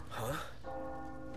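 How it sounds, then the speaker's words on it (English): A church bell tolls in the Resident Evil 4 remake video game: after a brief breathy stir, a sustained ringing tone with layered overtones sounds steadily and moderately loud. "the bell tolls"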